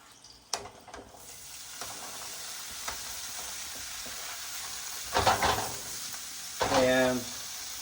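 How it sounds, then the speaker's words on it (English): Chanterelle mushrooms hit hot oil in a pan, starting with a thump and clatter, then a steady sizzle that swells into two loud bursts of frying and stirring near the end. "so I'm gonna start sauteing some of the mushrooms."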